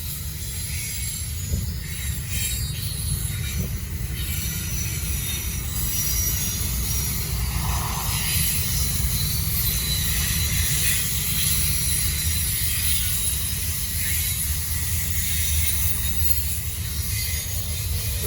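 A Norfolk Southern freight train rolls past near the tracks at Gaffney, South Carolina, on the Charlotte District, its wheels grinding and squealing in a steady, loud, continuous rumble that holds throughout with no talking.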